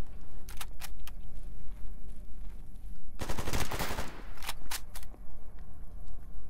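Gunfire in the video game Stalker GAMMA: a sudden dense burst of rapid automatic shots near the midpoint, with a few scattered sharp shots before and after over a steady ambient background.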